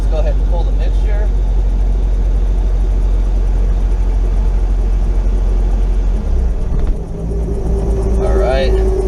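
A helicopter piston engine idles loudly with a deep, steady drone while its mixture is pulled. The running note shifts and dips near the end, and people talk over the engine throughout.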